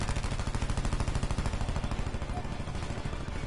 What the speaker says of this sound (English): Someone's getting shot at already